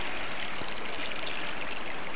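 Water of a Korean river rushes and gurgles continuously, a soft, steady broadband wash heard alone at moderate distance.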